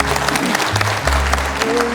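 Audience clapping to welcome two guests onto a Korean TV talk-show stage, a steady mass of claps with a low hum and faint voices underneath.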